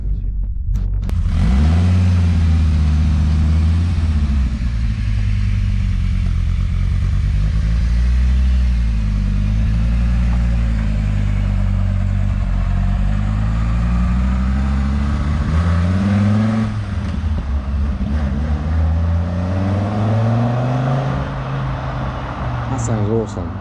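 A turbocharged VR6 engine in a Toyota MR2 rumbles at idle while warming up, then revs up and down repeatedly in rising and falling surges, loud and close.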